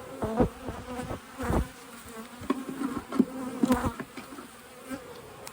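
Honeybees from an open hive colony in a summer bee yard hum loudly and continuously close by, with individual bees buzzing past near the microphone in rising and falling swells.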